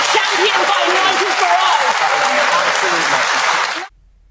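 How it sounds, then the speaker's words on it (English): Studio audience applause on a BBC television programme, a loud, dense wash of clapping sustained evenly with faint speech underneath, then cutting off abruptly into silence near the end. "you hear that vacuous applause when a cliche, tawdry left-wing point is made"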